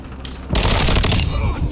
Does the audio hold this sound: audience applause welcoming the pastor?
no